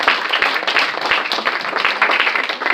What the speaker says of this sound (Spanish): Debemos dar palmas al Rey.